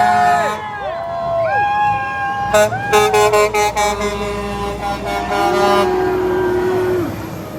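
Passing McKinnon trucks sound their horns at a roadside Back The Blue rally: a string of loud blaring air-horn blasts, some long and some in quick bursts, fading as the trucks go by, with crowd noise behind.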